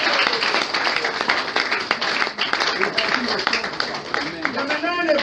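A church congregation applauds the Lord, steady crowd clapping mixed with cheering voices and a preacher speaking over it, loud and continuous throughout.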